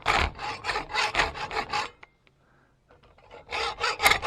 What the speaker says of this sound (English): I decided I'd just open that slot up on the metal piece a little bit with a hacksaw